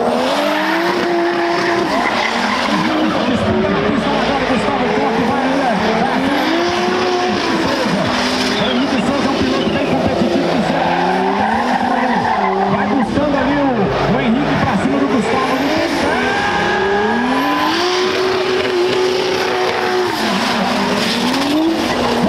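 Two drift cars battle at a Brasiliense drift championship round, engines roaring and revving continuously with repeated tire squeals as they slide, a loud sustained racket throughout; crowd or announcer voices are faintly mixed underneath.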